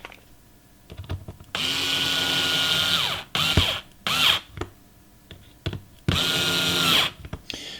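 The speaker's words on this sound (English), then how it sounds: "The electric screwdriver actually made that much easier than using the standard screwdriver." An electric screwdriver whirs in several bursts, two long and a few short, close up while assembling a Tamiya Volvo FH12 Globetrotter 420 model truck, with light clicks of parts between runs.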